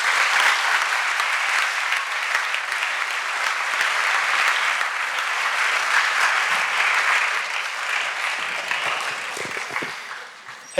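Sustained audience applause welcoming speaker Mark Wexler at a closing plenary on survivors of human trafficking, a steady dense wash of clapping from a crowd that holds level for about ten seconds and tapers slightly at the end.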